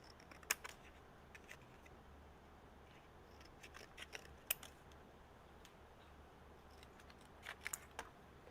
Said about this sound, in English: I cut the little ends of the stars off.